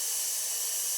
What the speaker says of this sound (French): Je souffle, j'inspire.